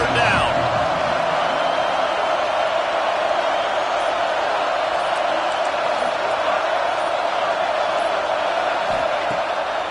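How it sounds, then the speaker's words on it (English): A dense, steady crowd roar fills a football stadium in the video game NCAA 26 for the whole stretch, loud and continuous, with commentary voices faintly over it. "Decibels rising as the crowd gets behind this defense on third down."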